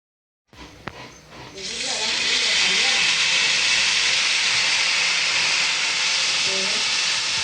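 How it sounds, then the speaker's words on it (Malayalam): Broken semiya vermicelli fries in ghee with a loud, steady sizzling hiss that starts after a short quiet moment and then holds at full strength, with a faint voice briefly underneath. "അപ്പോൾ നമ്മൾ ഒടിച്ചു വെച്ച സേമിയൊക്കെ നെയ്യിലിട്ടൊന്ന് വറുത്തെടുക്കാൻ പോവാണ്"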